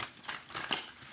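A thick oracle card deck is side shuffled by hand, a quick papery riffle of cards sliding together, brief and close.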